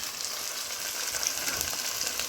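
Onions fry in a pot for a mutton curry, giving a soft, steady sizzle with faint crackle, heard alone and at moderate distance.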